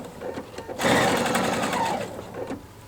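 A Pfaff sewing machine with a binder attachment stitches apron ties in a steady, close, loud whirring run that starts after a short pause and continues almost to the end.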